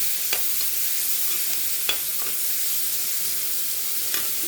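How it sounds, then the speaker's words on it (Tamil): Tomatoes sautéing in a pan, a steady close sizzle and hiss with a few light scrapes and taps as they are stirred. "தக்காளி போட்டுக்கலாம் நல்லா வதங்கட்டும்"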